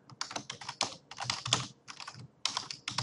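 Fingers type in quick bursts on a computer keyboard, the clicks close and crisp, with short pauses between runs of keystrokes and no talking.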